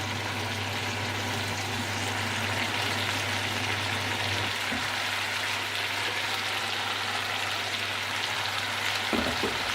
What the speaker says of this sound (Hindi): तो इसमें मेथी डालकर भूनूंगी।